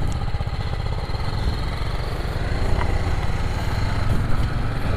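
Yamaha MT15 V2 motorcycle engine running at the start of a long ride, a steady close throbbing hum with a fast even pulse and some wind noise.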